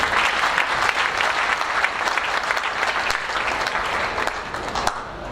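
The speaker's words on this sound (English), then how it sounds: "Can we clap for Jesus?" A summit audience claps steadily for several seconds, a loud, dense burst of many hands that holds evenly and eases slightly at the very end.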